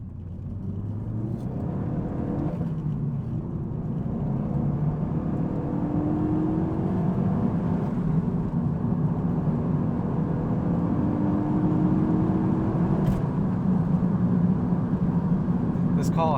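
A Renault Megane RS 265 sports car drives along with a steady engine drone and road rumble, the pitch climbing as it accelerates, heard from inside under someone talking.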